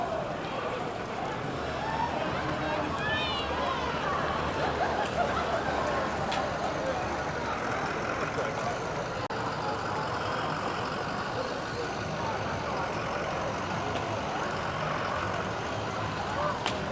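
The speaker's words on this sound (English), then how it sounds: "We've got a diesel truck driven by Cityside Improvements" A diesel truck from Cityside Improvements rolls past in the Fergus Falls, Minnesota Summer Fest parade, a steady engine rumble with street noise underneath an announcer talking throughout.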